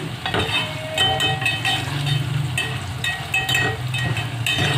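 Food frying crisp in hot oil in a home kitchen gives a steady, close sizzle with intermittent crackles and stirring clatter, moderately loud and continuous.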